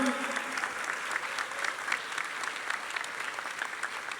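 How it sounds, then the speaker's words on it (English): A room full of people clapping steadily at a high school graduation, sustained applause at a moderate distance with a few faint voices mixed in. "Please give a round of applause for the class of 2025"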